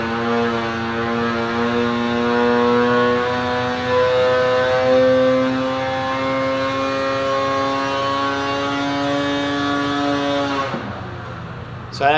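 A high-compression Polaris 850 Axys snowmobile engine with a Stage 2 kit, running race gas on a dyno, climbs in a loud, sustained rising rev for about ten seconds before cutting off abruptly; no talking.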